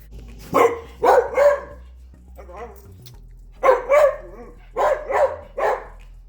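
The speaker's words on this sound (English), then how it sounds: "He has to bark now." A dog barks in short bursts, two or three sharp woofs at a time with pauses between, close by and loud.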